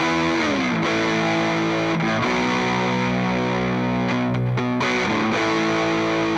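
An electric guitar runs through a Valeton GP5 multi-effects unit with a Tube Screamer-style overdrive stacked on the amp model, playing loud, thick sustained chords that shift several times with brief breaks, no voices.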